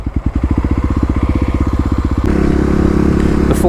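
A Kawasaki KLX351 dirt bike running a Dobeck fuel tuner thumps along at an even idle, then is blipped about two seconds in, jumping to a loud, sustained, close buzzing rev that holds to the end.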